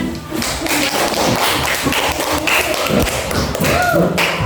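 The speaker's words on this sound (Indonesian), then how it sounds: "Terima kasih, beri tepuk tangan" Classroom applause from students after a group presentation in an Indonesian elementary school, a dense burst of rapid hand claps and thumps lasting the whole time, close and loud.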